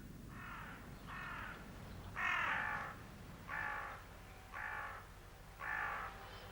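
A large flock of crows cawing, with six separate harsh caws spaced about a second apart over a low steady background murmur, moderately distant and without any talk.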